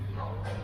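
A dog in a Dubai pet shop selling dogs and puppies gives a single short bark close by, heard briefly over faint background hum.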